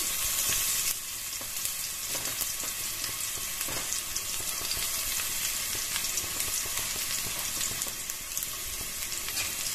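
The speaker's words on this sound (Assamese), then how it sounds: "এইখিনি মই খুব ধুনীয়াকৈ এনেকৈ ভাজি ল'ম নহৰুৰ ভাজা ভাজা গোন্ধ এটা নাহালৈকে" Chopped garlic and black cumin seeds fry in a generous pool of hot oil for a fish curry, giving a loud, steady, crackling sizzle that carries on unbroken with no voices.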